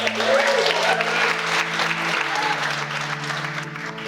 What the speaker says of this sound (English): I think she also deserves a massive round of applause.